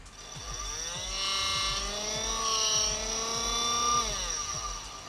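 Small PC cooling fan in a portable soldering fume extractor runs with a steady whirring hum and a faint rising and falling whine, close by, with light clicks and handling noise underneath.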